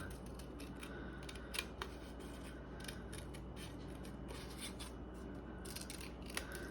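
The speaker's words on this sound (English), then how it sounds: "Holding my paper together while I cut so it's symmetrical." Scissors snip through folded paper for a collage in a series of close, crisp cuts with small pauses between them, in a quiet room with no talking.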